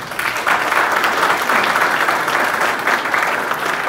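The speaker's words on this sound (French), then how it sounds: "je vous demande de bien vouloir applaudir chaudement le directeur général de l'ONA" A ceremony audience claps warmly, producing a full, sustained wash of applause from many hands that holds steady without a break.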